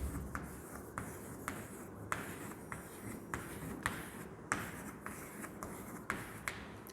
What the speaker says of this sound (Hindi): अब मैं आपको पहले लिख देती हूँ यहाँ पर